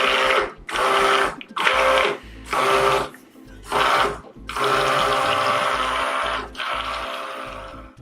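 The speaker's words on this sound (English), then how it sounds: "with my immersion blender, I'm going to mix it on low" An immersion blender mixing oils and lye for homemade soap in a crock pot, whirring in short bursts, several quick pulses followed by a longer continuous run, close and loud, with no talking.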